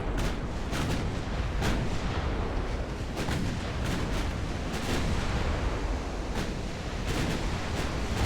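Distant, rumbling warship cannon fire from the naval game Ultimate Admiral: Dreadnoughts, with repeated muffled booms over a constant roar of sea and wind, and no talk.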